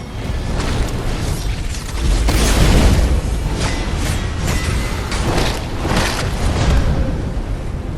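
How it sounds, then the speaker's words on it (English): Explosions erupt in combat in the video game Godfall as a Great Sword strikes burning enemies, layering dense booms, crackling bursts and clanking mechanical impacts in a loud, continuous barrage with repeated sharp hits. "Here is a look at the Great Sword now and how the explosion works."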